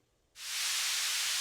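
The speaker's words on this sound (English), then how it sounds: "Only the sound that began the story. A distant hiss." After a brief quiet moment, a broad steady hiss swells in and holds, even and unbroken, like a continuous rush of air or steam.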